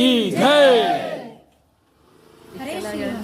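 A crowd of devotees shouts a loud jaikara chant for the Swamiji in two swelling bursts separated by a short hush.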